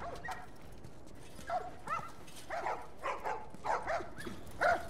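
Dogs in The Last of Us game bark and yip in several short bursts, moderately near, with faint background noise between the calls.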